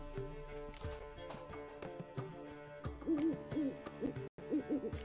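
An owl hoots repeatedly in The Witcher 3 video game, soft low calls recurring through the second half amid quiet in-game ambience, with a brief dropout near the end.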